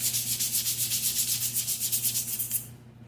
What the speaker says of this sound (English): So we get here with the sandpaper and we clean it up extra.